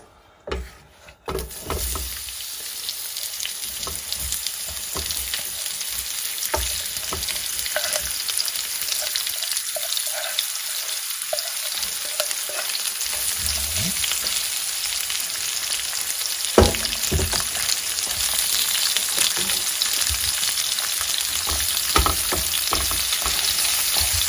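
Chopped onions fry in olive oil in a pan for a Basque-style chicken dish, a continuous loud sizzle with occasional stirring scrapes and crackles, briefly quieter in the middle before the hiss swells again.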